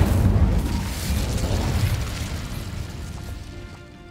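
The Incendio fire spell is cast in Hogwarts Legacy, a loud booming whoosh of flame that bursts at once and then slowly fades and rumbles away.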